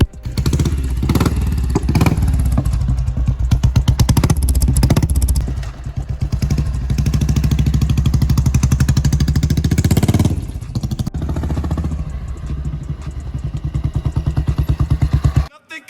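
A modified 1990 Royal Enfield Bullet, restored with a fully reassembled engine, rides past with a loud, close, thumping exhaust beat that rises and dips with the throttle and cuts out near the end.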